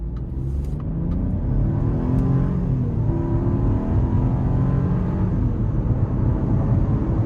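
2026 Chevy Trax 1RS turbo engine accelerates gently from inside the cabin, a steady low rumble and smooth rising drone with road noise, moderate and continuous, with no talking.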